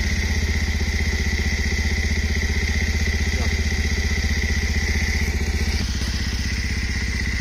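A motorcycle engine dosed with Liqui Moly Shooter engine flush idles close and loud, holding a steady, even chugging pulse throughout with no throttle changes.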